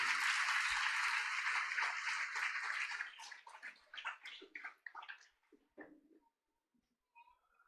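A church congregation applauds loudly for about three seconds, and the dense clapping then breaks into scattered claps and thins out toward silence.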